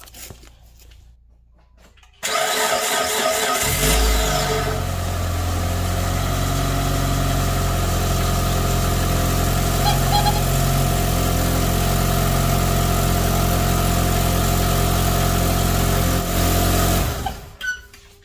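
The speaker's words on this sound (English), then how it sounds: "we're gonna start the engine now" After a moment of quiet, the 2.4L engine of a 2006-13 Mitsubishi Outlander with a fluid leak and smoke cranks and catches, then idles with a steady, even rumble for over ten seconds before cutting off.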